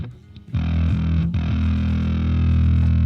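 Electric bass played through a heavily set distortion effect, compared across an Aguilar Agro pedal and a Marshall JCM 800 sound: a short pause, then loud, thick, buzzing low notes ring out and sustain with a few pitch changes, no talk.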